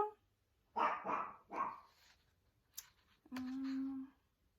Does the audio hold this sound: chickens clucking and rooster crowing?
no